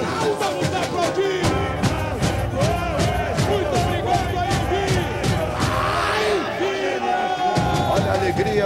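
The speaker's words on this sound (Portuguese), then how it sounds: "Agora é a hora do show. Vamos aplaudir." Samba school parade crowd for Nenê de Vila Matilde in 2003, a dense continuous roar of cheering and hubbub over loud pounding samba percussion, with an announcer's voice in the mix.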